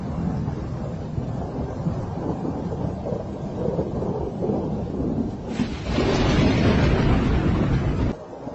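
During a thunderstorm in Mexico, recorded on a phone, a continuous deep rumble of thunder and rain rolls on, growing louder and fuller toward the end before easing off, with no voices.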